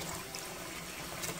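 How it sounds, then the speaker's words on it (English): Warm water pours steadily into a container for washing wool diaper covers, a continuous close splashing hiss that runs for the whole moment without any voices. "we wanna fill this up with some warm water"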